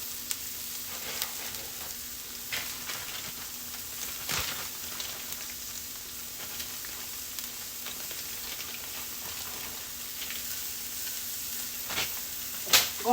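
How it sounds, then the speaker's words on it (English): Chopped medium onion sizzling steadily in hot frying oil, a continuous crackling hiss with occasional spits and a faint stir near the end, close and alone. "I'm going to throw my onions in."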